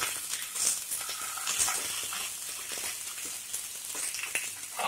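Mustard seeds and cumin sizzling in hot ghee for a tempering over semolina snack balls, a steady close crackle of frying with small pops and spits and no talk.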